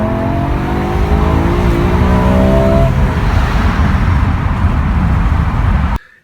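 A BMW M5 in M mode accelerating hard at full throttle in first gear, a loud, close engine note climbing steadily in pitch for several seconds before cutting off abruptly.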